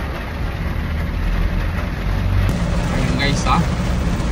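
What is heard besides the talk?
heavy downpour of rain in Urdaneta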